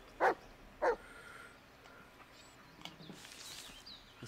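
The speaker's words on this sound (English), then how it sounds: "What are you barking at the trunk for?" A dog barks twice in quick succession in The Blair Witch video game, sharp and fairly close, followed by quiet ambient rustling with no speech.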